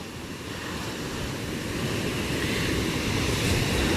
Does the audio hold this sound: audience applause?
no